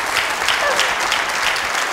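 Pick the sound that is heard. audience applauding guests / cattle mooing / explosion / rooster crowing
audience applauding guests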